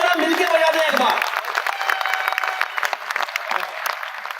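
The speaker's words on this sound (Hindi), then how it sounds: "तालियां कम जरा मिलके बजा दे एक बार।" Audience applause at a Hindi comic poetry recital, a steady wash of clapping from a large crowd that fills the whole stretch, with a voice speaking over it at the start.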